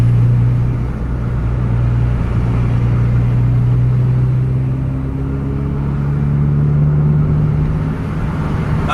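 Scania buses and private cars drive along a busy road, producing a continuous loud engine rumble with a steady low drone that barely changes over the whole stretch.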